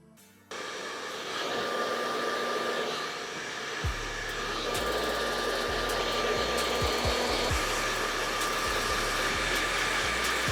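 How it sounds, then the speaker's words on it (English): Hair dryer with a concentrator nozzle blowing direct heat onto hair while stretching it at the roots of a half wig, a steady loud whooshing drone that runs without pause after a brief quiet start. "I'm gonna use this nozzle to apply direct heat and stretch my hair."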